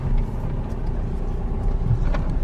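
Steady low road rumble and engine hum fill a car cabin while driving, continuous and fairly loud with no voices.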